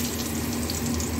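Potatoes frying in oil in a wok give a dense, continuous sizzle that stays loud and even across the short moment, with no voices.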